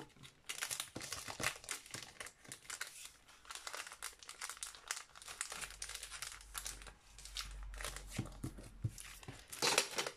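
Paper packaging being crumpled and unwrapped by hand, a dense run of close crinkling and tearing rustles lasting throughout, with brief louder bursts and no talk.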